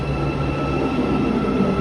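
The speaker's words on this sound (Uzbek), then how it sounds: "Mana metro shunaqa ko'rinishda." A metro train at a station in Malaysia gives off a steady, loud rumble and mechanical hum with a faint high whine above it, constant throughout with no voices.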